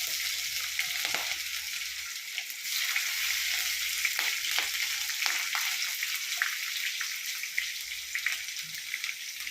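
Curry leaves, garlic and ginger fry in hot oil for a Kerala-style gooseberry pickle, a close, continuous crackling sizzle with scattered pops and occasional stirring scrapes.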